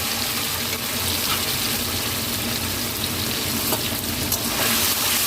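Paneer pieces fry in white oil, producing a loud, dense, continuous sizzle and spatter close to the pan. There is no talking.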